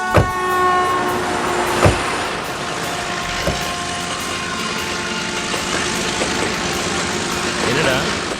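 A train runs along a railway track with a heavy, continuous rumble. Sustained tonal horn blasts sound over it, and sharp metallic clanks recur every couple of seconds as it passes close by.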